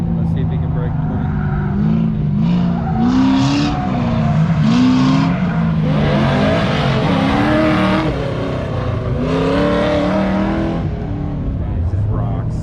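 A green truck runs an autocross course at Bristol Motor Speedway, its engine loud and near, rising and falling in pitch as it accelerates and lifts through the turns, with voices talking over it.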